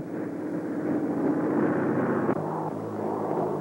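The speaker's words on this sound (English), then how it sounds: "And now, they're arriving by airplane." A steady, droning aircraft engine rumbles continuously at moderate volume, with a brief dip partway through before the hum resumes.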